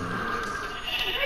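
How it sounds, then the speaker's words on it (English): Sheep bleating in the Minecraft video game, one short wavering bleat that sounds close and clear over a steady game background. "I see sheep."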